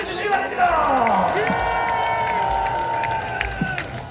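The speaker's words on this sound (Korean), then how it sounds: "네 분의 목사님께도 뜨거운 박수를 보내주시기 바랍니다" A large crowd at the 2023 Liberation Day national rally in Gwanghwamun cheers and claps, a broad roar of voices and applause rising and fading over a few seconds, with shouting voices prominent above it.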